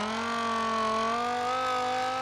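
A V10 drift car engine in SLRR holds high revs, a loud, sustained whine with strong harmonics that waver slightly in pitch and never let up over two seconds.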